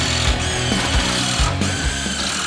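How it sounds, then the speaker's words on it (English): A power drill drives screws into 2x4 framing lumber during basement framing, a loud, close, continuous whine with a few short rises and dips as each screw bites into the wood. "So I'm just going to put 3 screws in."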